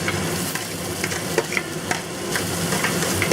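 Onions, ginger and garlic sautéing in oil saved from frying dace fish, a dense, continuous sizzle with quick clicky stirring scrapes, close and loud, no voices.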